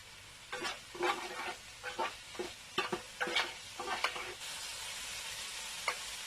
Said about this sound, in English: I'm going to add the onions. But for now, I'm going to leave them to fry.